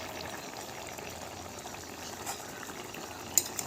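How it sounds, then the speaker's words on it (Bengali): A pot of fish-head curry with pumpkin and potato simmers at a gentle boil, soft continuous bubbling and faint popping heard close and quiet, with a couple of small clinks near the end. "কত সুন্দর বুটবুট করে ফুটছে।"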